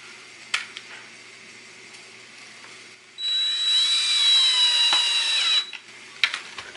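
A power tool drives screws into bass guitar hardware. Light clicks and handling noise lead into a steady, high-pitched whir lasting about two and a half seconds, followed by a few more clicks.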